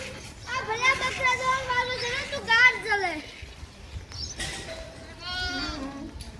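Goats bleat repeatedly in wavering, nasal cries, close by, with pauses between calls and faint background noise.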